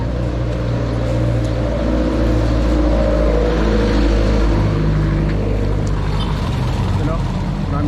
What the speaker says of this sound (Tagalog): Marami na sasakyan.